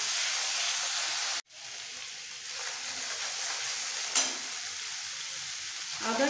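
Ginger sautés in hot oil for a hilsa and taro dish, a loud, steady close sizzle that drops out for an instant, returns and holds, with a quick stirring scrape partway through and no voices.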